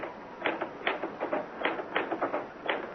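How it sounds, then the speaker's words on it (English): Typewriter keys clack in irregular bursts of taps for a radio drama sound effect, close and fairly quiet with short pauses between strokes and no voices. "Why did I never learn to work a typewriter?"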